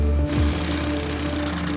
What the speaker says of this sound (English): get your electric jackhammers out